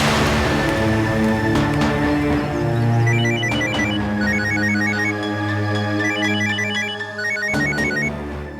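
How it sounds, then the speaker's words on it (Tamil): A phone rings with an incoming call, its electronic ringtone repeating a bright melodic pattern loudly and continuously over a low musical background. "அம்மா வீட்ல இருந்து ஃபோன் பண்றாங்க."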